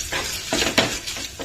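Hot spice tempering sizzling and crackling in a small pan for tomato coriander chutney, with a pinch of turmeric added, close and steady with brief stirring bursts.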